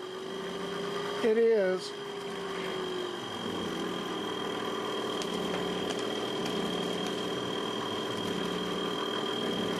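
A car engine idles with a steady, even hum and faint vibration while its RPM is watched on a gauge, with a brief burst of speech near the start.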